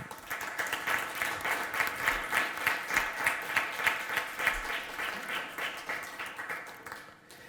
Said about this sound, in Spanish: Por favor, un aplauso para...